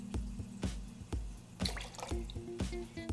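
Lime juice poured into a cocktail in a shaker tin, a few short liquid drips and splashes in quick bursts, near and fairly quiet, with no talk over it.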